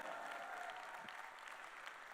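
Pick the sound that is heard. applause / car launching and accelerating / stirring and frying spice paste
applause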